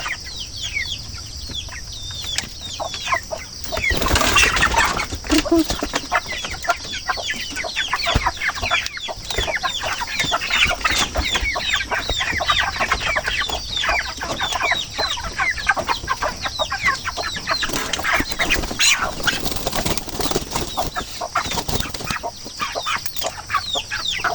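Twenty-eight-day-old broiler chickens on a farm cluck steadily in a dense flock, with bursts of wing flapping as one bird is caught; the noise is loud, continuous and close, with no talk.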